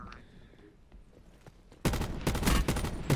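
Rapid gunfire in the Call of Duty Blackout video game on the Alcatraz map erupts after a quiet stretch, loud dense bursts of shots lasting over a second with faint game sounds before.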